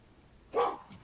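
A dog gives a single short bark at moderate distance during a community meeting, standing out over a quiet background with no talk at that moment.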